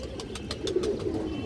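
A healthy pigeon coos softly in a low, rolling murmur that swells briefly midway, with a faint engine-like rumble beneath.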